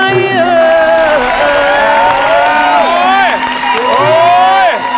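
A loud studio crowd at a televised Thai singing contest cheers and shouts continuously, with applause running underneath and voices whooping and calling out over the din throughout.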